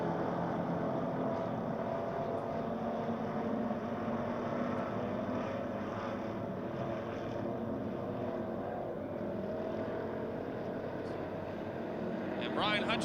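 Sportsman-division race cars at Pennsylvania Motor Speedway near Pittsburgh during the mechanics race, a steady loud roar of engines from a distance, continuous throughout, with talk layered over it.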